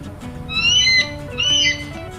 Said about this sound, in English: It's an eagle. It flies high and strong in the sky.